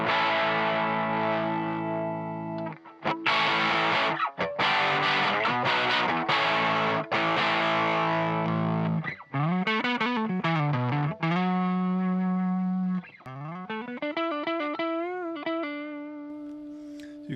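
An electric guitar played through a fuzz pedal with the guitar volume turned up sounds thick and saturated, first as sustained chords, then as bending single-note lines, loud and continuous with no talk.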